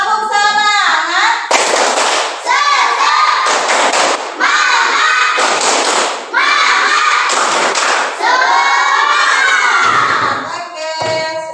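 Schoolchildren stand and perform a rhythmic spirit clap chant in a classroom lesson, loud shouting voices with bursts of clapping and thumps in repeated phrases, close and energetic throughout.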